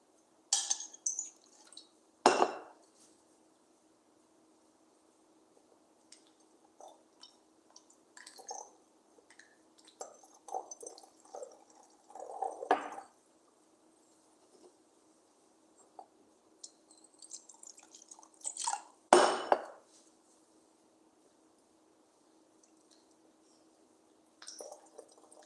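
Water sloshes and drips inside a 250 ml glass volumetric flask as it is rinsed, with scattered close splashes, bursts of swirling and a few sharper knocks against a quiet, faintly humming background.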